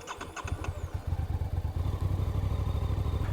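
A 2025 VOGE R 625 twin-cylinder motorcycle starts up: a brief metallic clatter of the starter, then the engine catches and settles into a steady, close, throbbing idle.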